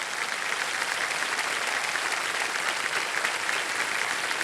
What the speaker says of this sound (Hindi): तो एक बार फिर जोरदार तालियां बज जाए स्नेहा जी के लिए